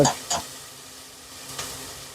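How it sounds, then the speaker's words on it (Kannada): Onion, tomato and green chilli sizzling in a tempering pan, soft background frying punctuated by three sharp stirring scrapes, no voices. "ಒಗ್ಗರಣೆಗೆ ಈರುಳ್ಳಿ, ಟೊಮೆಟೊ, ಹಸಿಮೆಣಸಿನ್ಕಾಯಿ ಎಲ್ಲ ಹಾಕಿದ್ದೀನಿ"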